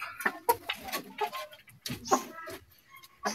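A gamecock clucks in short, irregular bursts, close by, with scattered clicks and faint background noise between calls.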